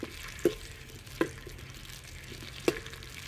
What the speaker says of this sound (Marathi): थोडं फ्राय होऊन द्यायचं आहे।